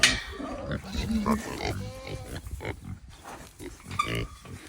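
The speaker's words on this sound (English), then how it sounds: "These are my pigs." Pigs on a homestead grunt and oink in short bursts at close range, with some activity and a voice faintly mixed in.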